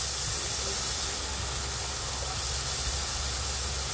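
Carrots added to a hot pan for chicken pancit canton give a steady, even hiss of sizzling oil, close and unbroken for the whole stretch, with no talking.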